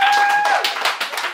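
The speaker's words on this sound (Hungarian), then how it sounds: "a legelső csapat az pedig a vegyes csapat lett, és nekik is egy nagy tapsot szeretnék" A short burst of applause for the winning team at a dinner cooking contest, with a few loose claps after a brief tone at the start.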